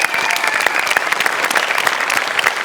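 An audience in a TV comedy show studio gives a guest a round of steady, dense clapping, loud and close, holding evenly throughout.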